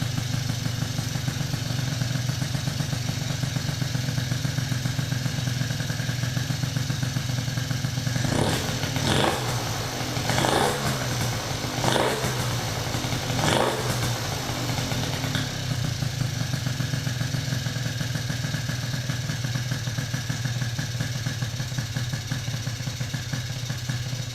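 A small 70cc Honda Spree scooter engine with a Malossi top end runs steadily throughout, with a few quick revs in the middle that rise and fall before it settles back to idle.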